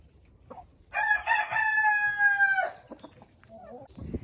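A rooster crows loudly and close for about two seconds, with hens clucking softly before and after in a quiet yard.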